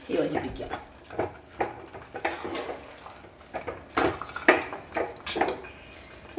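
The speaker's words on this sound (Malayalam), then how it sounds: "നന്നായി ഇളക്കി യോജിപ്പിക്കാം." Spoon stirring jackfruit erissery with fried coconut in a pot, with frequent clinks and scrapes against the metal close by and some faint background voice.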